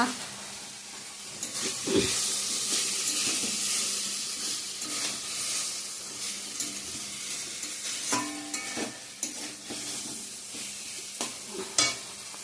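Spices sauté in a pan, with a continuous close hiss and sizzle and periodic scraping stirs, a sharp knock near the start and several louder clatters toward the end.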